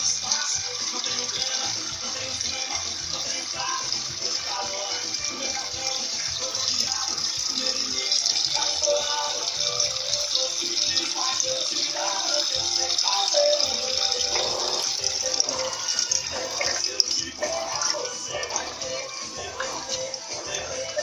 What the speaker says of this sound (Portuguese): Já está atingindo o nível de água.